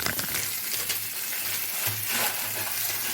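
Green chillies fry in a pan as a utensil stirs them, producing a continuous sizzle broken by light metallic scraping and clinking.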